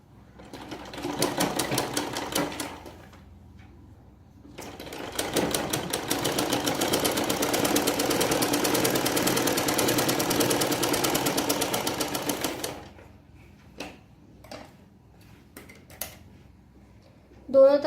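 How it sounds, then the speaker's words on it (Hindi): A sewing machine stitches the seams of a two-panel salwar, with a short burst of close whirring followed by a long, steady run. Quiet handling noises and a few clicks come after it. "अब इस साइड पे भी सिलाई लगाएंगे एंड तक कपड़ा दबा के, और इस साइड से भी सिलाई लगाएंगे एंड तक कपड़ा दबा के।"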